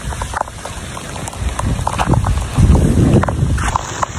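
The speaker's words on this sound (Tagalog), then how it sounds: "Ang lakas ng hangin sa taas." Strong typhoon wind roars and buffets in a storm-hit neighborhood, rising into louder gusts partway through, with scattered rattling and spattering noises and no one speaking.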